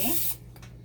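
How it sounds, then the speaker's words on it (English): Cooking spray oil misted lightly over the tops of zucchini, a single short close hiss lasting about a third of a second before cutting off, followed by faint room noise. "we're going to use our spray oil and spray the tops of the zucchinis just lightly"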